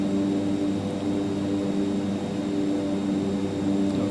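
Steady engine drone of an aircraft on approach in the X-Plane 12 flight simulator, a continuous hum with tonal bands, constant level throughout and no speech.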